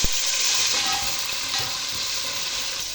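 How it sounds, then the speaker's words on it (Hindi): Chopped tomatoes, onion and whole spices frying in a pan, giving a steady, close hiss of sizzling oil with faint stirring scrapes underneath and no talking. "ऐड करने के बाद मैं इसे 2 से 3 मिनट तक भूनूँगी।"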